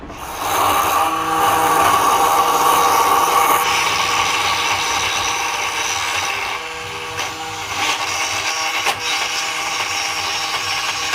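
A power tool cuts four grooves into a tennis-ball cricket bat during manufacturing, a loud, steady whining grind that runs continuously with a slight dip partway through.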